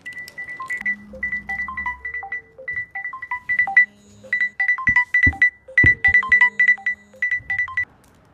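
A phone rings with an electronic melody of bright beeping tones repeated in quick succession, clear and close, with no voices over it.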